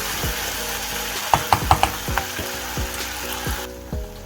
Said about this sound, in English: we're going to reduce the flame medium to low and let it just sizzle away